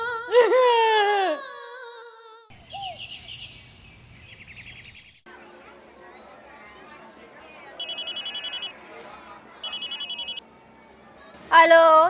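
A telephone rings in two short electronic bursts in the middle of a domestic scene, sharp and distinct, while a baby-like cry and other voices are heard before and after.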